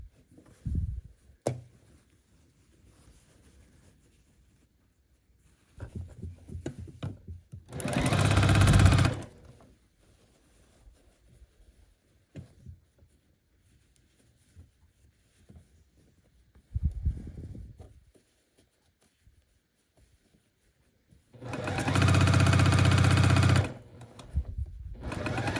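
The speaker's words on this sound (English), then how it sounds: "I am going to lay the one on top of the other and start sewing these together" A sewing machine stitches a long seam on a pickle dish quilt block in two loud, steady bursts of a few seconds each, separated by quiet pauses with faint handling of fabric.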